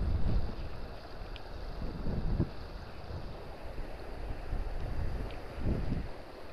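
Steady wind gusting across an open frozen lake during an ice fishing outing, a continuous low rushing roar with microphone buffeting that swells at a few moments, heard alone with no talk.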